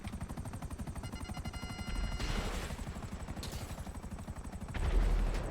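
Rapid, evenly spaced bursts of automatic gunfire from a Savage attack helicopter in GTA 5 Online rattle on continuously, with a few heavier booms mixed in.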